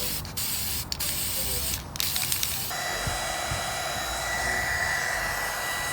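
Spray paint hissing from an aerosol can onto a PS4 controller, a steady, loud, close whoosh held for several seconds after a few short bursts, with no talking.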